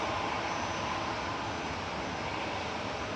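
A TUI airliner arriving from Cancun at Manchester Airport sends a steady, broadband jet roar through the whole stretch, moderately distant and unbroken, with no voices.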